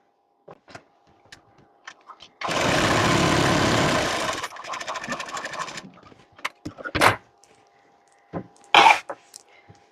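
A sewing machine runs in one steady burst of about two seconds while stitching the tucks on the back piece of a simple blouse, followed by a lighter stretch of motor and handling noise and a few scattered clicks and knocks.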